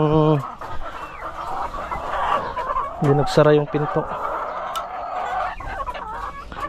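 Chickens cluck repeatedly and loudly at close range during feeding in a backyard poultry pen, with a person talking over the birds.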